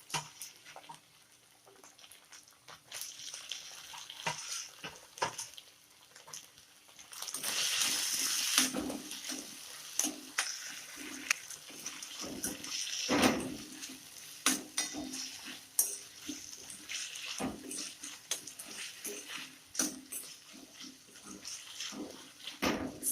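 Onions and tomatoes sauté in a pan for spiced okra, giving a continuous soft sizzle broken by scraping stirs and occasional clinks of the spoon against the pan.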